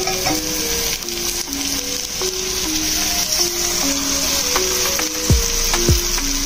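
Onions and moong dal balls fry in a pan with a steady, loud sizzle throughout, broken by occasional stirring scrapes and a couple of sharper pops near the end; no one talks.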